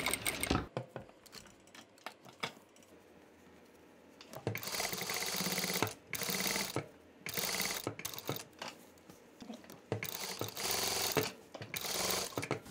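A sewing machine stitches in short, rapid bursts with stops between them as it turns at a fabric corner, the mechanical whirring close and clear, with small clicks during the pauses.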